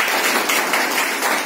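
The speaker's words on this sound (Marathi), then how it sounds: "सरांसाठी सर्वांनी एकदा टाळ्या वाजवाव्या" An audience at a gathering on the Constitution's anniversary applauds a speaker, a short burst of dense, bright, continuous clapping close up with no voices.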